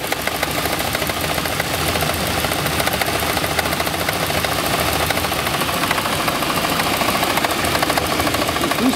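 UAZ Patriot engine idling with a rattle that may come from a worn lower timing chain, a loud continuous mechanical clatter and uneven running, close up, with no talk.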